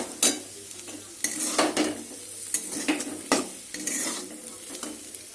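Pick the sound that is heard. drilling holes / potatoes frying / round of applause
potatoes frying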